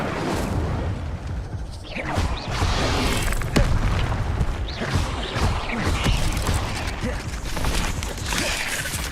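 Fire spells cast in Hogwarts Legacy: repeated whooshing bursts and booming crackles, loud and close, recurring every second or two with mechanical clatter between them.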